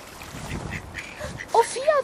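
A couple of short duck quacks sound near the end, following faint background murmuring and outdoor noise.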